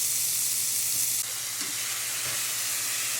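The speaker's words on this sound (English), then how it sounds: "into a searing hot cast iron, we are going to cook for a few minutes on each side until we get a char." Honey garlic steak bites searing in a very hot cast iron skillet, giving a steady, dense sizzle that fills the clip at close range with no talk over it.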